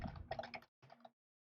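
Keystrokes on a computer keyboard during network router configuration, a quick burst of clicks followed by a short pause and a second brief flurry, close and fairly quiet.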